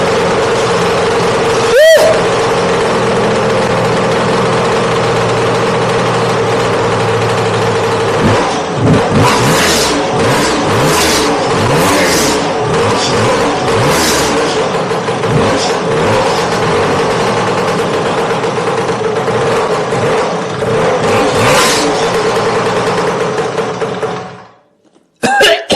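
A Lambretta TV175 Series 3 scooter engine kicks into life after a brief sharp start, then idles and revs repeatedly in loud, close, rising and falling surges before cutting off near the end.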